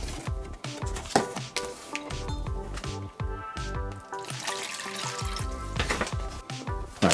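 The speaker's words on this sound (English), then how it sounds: "pour 1 cup of water into the large disposable" Water poured into a large disposable container for mixing plaster, a steady splashing, gurgling stream with drips, fairly close and moderately quiet, with some clattering handling sounds.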